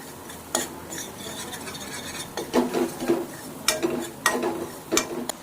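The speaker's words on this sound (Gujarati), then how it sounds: "હલાવતા જવાનું, સાંતળવાનું છે." Spoon scraping and clattering in an oiled pan while an ingredient is stirred and sautéed until golden brown, irregular metallic knocks and scrapes over a steady low sizzle, close by.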